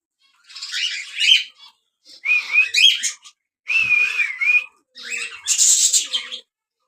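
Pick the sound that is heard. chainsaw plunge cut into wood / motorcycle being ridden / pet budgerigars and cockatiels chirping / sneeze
pet budgerigars and cockatiels chirping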